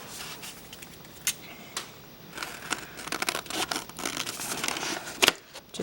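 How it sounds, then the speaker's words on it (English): Scissors trimming excess folded paper for a toilet-paper-roll mini album cover, a run of faint, close crisp snips and rustles, irregular and quiet, with no talking. "I'm going to trim this excess off."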